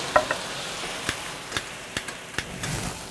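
Vodka poured into a hot pan for pasta alla vodka, giving a soft steady sizzle broken by a few sharp crackles and pops, close and fairly quiet.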